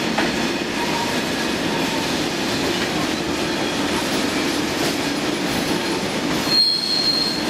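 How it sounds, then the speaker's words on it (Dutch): A freight train rolls along rails near Völklingen and Forbach, its wheels giving a sustained high metallic squeal over a rumbling clatter of wagons, close and steady, with a sharper screech near the end. "En deze trein komt vanuit Dielingen."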